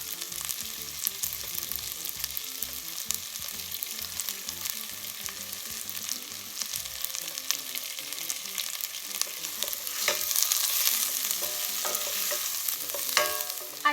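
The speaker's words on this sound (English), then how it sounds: "I've been cooking my onions in the butter for about 3 to 4 minutes." Onions cooking in butter in a pot for seafood chowder sizzle steadily with occasional stirring scrapes, a continuous moderate frying hiss that grows slightly louder and busier in the later part, with no voices.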